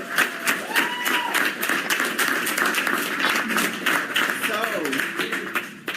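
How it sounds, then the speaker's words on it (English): An audience at a U=U gratitude gathering during AIDSWatch applauds itself, steady dense clapping with voices and whoops mixed in throughout, fairly loud and close. "you all owe yourselves a giant round of applause"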